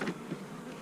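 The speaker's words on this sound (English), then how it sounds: "Very simple bee vacuum." Bees buzz inside a simple bee vacuum, a steady close insect drone carried under a continuous airflow hiss.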